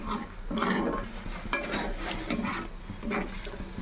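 Cashew paneer curry stirred and frying in a pan, with repeated scraping strokes of a spoon against the metal over a soft sizzle, close and steady.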